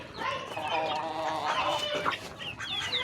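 A pet hen that has lost her feathers clucks and murmurs close by in a busy backyard with other farm animals, a continuous chatter of throaty clucks with brief higher calls.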